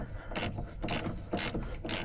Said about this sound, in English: I'm going to hold the bottom nut here on the anti-roll bar drop link with my adjustables, and then loosen it off from the top